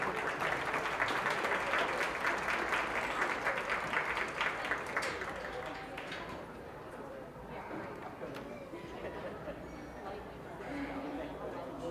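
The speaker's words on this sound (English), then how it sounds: "Let's give her a nice round of applause." Crowd applause at a junior fair sheep show, a moderate, distant roll of clapping that eases after several seconds into a murmur of voices and background arena noise, with chatter continuing underneath.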